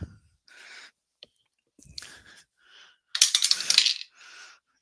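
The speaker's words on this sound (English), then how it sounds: "as we drop the dice" Dice tumble and rattle for an APBA baseball tabletop game, several short clattering bursts with one louder scattered roll near the end, close and crisp with no talking.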